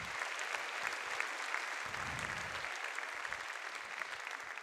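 Audience applause at a Spanish-language stand-up comedy show, a steady wash of clapping from a crowd that keeps going through the whole stretch without any voices.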